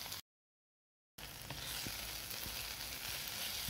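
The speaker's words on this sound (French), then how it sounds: "je mélange bien le tout et je laisse les légumes continuer de cuire à feu doux" Vegetables with tomato concentrate sizzle softly in a pan on low heat, a steady frying hiss after a brief silent gap, with a few faint clicks of stirring.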